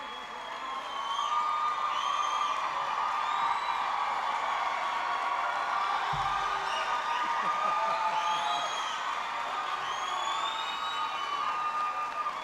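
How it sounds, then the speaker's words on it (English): A large rally crowd for President Clinton in Champaign-Urbana in 1998 cheers and applauds steadily at moderate distance, a continuous roar with shouts and whistles rising through it. "I haven't heard a cheer like that since Illinois beat Michigan."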